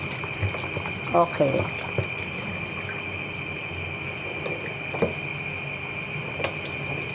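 Guava leaves being washed under running water, a steady hissing tap stream with brief splashy handling sounds near the start and a single short spoken word.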